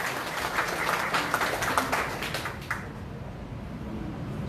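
Applause from a Liberty Korea Party audience at a provincial chairman's inauguration and appointment ceremony, a fairly faint, diffuse wash of clapping that fades out after about three seconds into a quiet hall.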